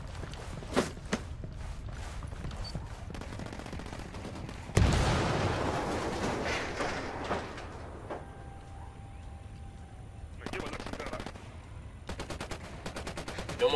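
Gunfire in the video game Ghost Recon Wildlands: scattered sharp shots early on, then a heavy loud burst near five seconds and more clustered firing later over steady game ambience.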